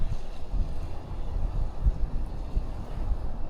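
A strong offshore wind blows on Roskilde Fjord, shallow water, buffeting the microphone with continuous low rumbling gusts and thumps, fairly loud and close, with no voices.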